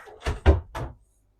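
A shower door latch on a Catana OC 50 catamaran clicks and thunks shut in a few quick knocks, close and fairly loud, with no talking.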